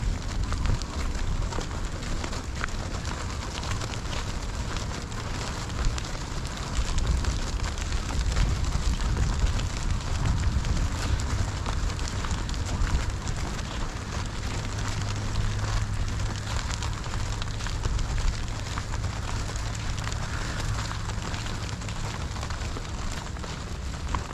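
Rain falls steadily on a sunny day over a cucumber garden with a trellis net, a soft continuous hiss of drops on surfaces and foliage that stays even throughout.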